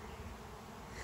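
A honeybee swarm marches from a pallet into an old nuc box, producing a soft, continuous hum of many bees at close range with no other sounds.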